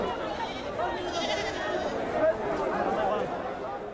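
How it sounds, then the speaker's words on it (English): Goats bleat amid the steady murmur and chatter of a crowd at a livestock market in Oman, where animals are paraded around a circular arena; the calls are mid-distance and partly masked by voices. "The goats are presented in a circular arena in the middle of the market"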